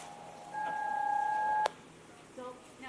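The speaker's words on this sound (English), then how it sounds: "I can press the C tone button here." A steady electronic C tone from the button on wiretap recording equipment holds for about a second and then cuts off with a click, clear over a hissy room background.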